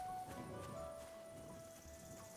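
Horse hooves clip-clop in the video game Kingdom Come Deliverance 2, a quick, light rhythm over a steady in-game background hum and a sustained tone.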